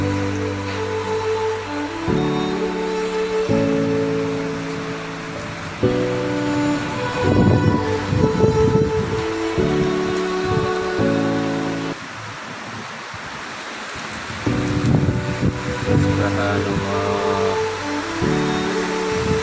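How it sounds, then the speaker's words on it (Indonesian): Heavy rain roars continuously with gusting wind, while a low droning hum pulses underneath throughout. "Hujan deras serta angin kencang, semoga tidak terjadi apa-apa."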